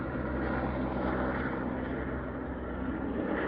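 A sightseeing helicopter passes near a rail trail outside Penticton, B.C., its steady broadband rotor and engine drone filling the air at moderate distance, constant throughout with no talking.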